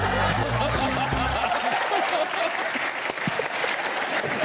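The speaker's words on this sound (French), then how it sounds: "Jean-Alain Saturnin qu'on applaudit très fort" A TV studio audience bursts into loud, dense applause that fills the whole stretch, with a low voice or music fading out early and scattered chuckles mixed into the clapping.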